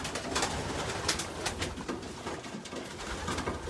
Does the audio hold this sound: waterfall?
no